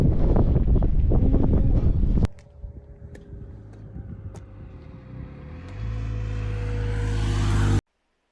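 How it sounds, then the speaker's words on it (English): Strong wind roars against the microphone, then drops off briefly before gusting back up loudly. "it's really windy"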